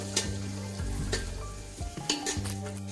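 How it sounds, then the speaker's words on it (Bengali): Shelled peanuts fry lightly in a pan with a steady close sizzle, broken by a few clattering stirs and scrapes of a utensil against the pan. "বাদামগুলো ভালোভাবে খোসা ছাড়িয়ে নিয়েছি তারপর একটু আমি হালকা করে ভেজে নেবো"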